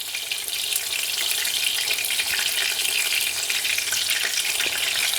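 A veal cutlet fries in a pan, a steady bright crackling sizzle with dense spitting pops that holds at an even level throughout, with no voices over it.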